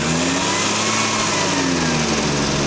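Small gas engine of a gold drywashing blower running steadily at close range, a continuous loud droning hum with no talk over it.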